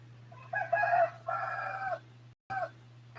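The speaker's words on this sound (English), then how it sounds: "Can you guys hear the rooster crowing?" A rooster crowing on the small island of Biloran in the Philippines, a long multi-part cock-a-doodle-doo call at moderate distance over a steady low electrical hum, with a short final burst after a brief cutout.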